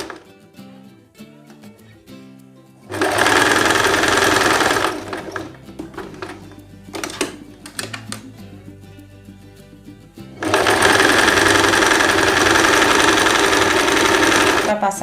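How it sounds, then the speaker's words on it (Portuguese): A sewing machine stitches the belt sash of a simple dress, running in two long loud bursts separated by a quieter stretch of handling and fabric noise, with speech under it. "Você vem costurando essa parte do seu cinto, do cintinho, da faixazinha que tem aí."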